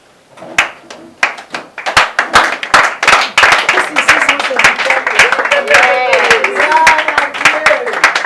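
A church congregation claps loudly in a quick rhythm that builds into sustained applause, with cheering and singing voices rising over it.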